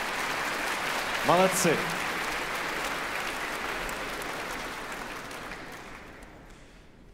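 Enthusiastic concert-hall audience applause as a brass ensemble leaves the stage at a Moscow Conservatory anniversary evening, dense clapping that slowly fades away, with a brief spoken word near the start.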